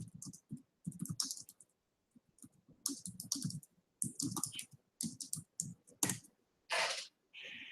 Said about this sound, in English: I'm just going to go ahead and type it in a second in the chat box